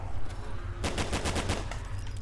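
Automatic gunfire in a Minecraft zombies game, a rapid burst of about a dozen loud shots lasting over a second against a steady low background, no talking.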